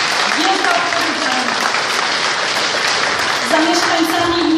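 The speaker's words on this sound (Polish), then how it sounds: "Wielkie brawa dla was" Sustained audience applause at a Wiosna party convention in Białystok, a steady dense wash of clapping running throughout while someone speaks loudly over it.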